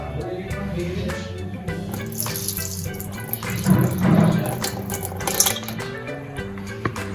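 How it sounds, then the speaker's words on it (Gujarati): Sago pearls are swished and rinsed in water in a bowl, giving a steady close-up sloshing and trickling with a brief louder splash midway. "તેને 2 થી 3 પાણીથી વોશ કરી લઈશું"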